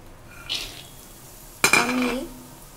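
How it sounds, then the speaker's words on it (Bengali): Peanuts being dry-roasted with salt in a pan, heard as a brief scrape near the start, then a sharp clatter and rattle of nuts stirred against the metal, settling into a soft rustle. "বাদামগুলো আমি একটু লবণ দিয়ে হালকা দেখো ভেজে নিচ্ছি।"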